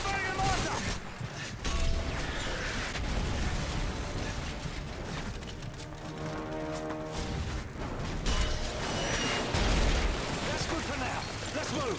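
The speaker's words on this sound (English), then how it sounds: "Keep firing the mortar!" Mortar shells fire and burst again and again in a Call of Duty: Modern Warfare 3 village battle, a dense, loud run of booms and blasts rolling under voices and combat noise.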